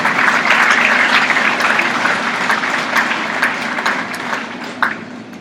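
Arena crowd at a university Little International livestock show applauding the exhibitors, a loud, sustained burst of clapping that fades slightly toward the end.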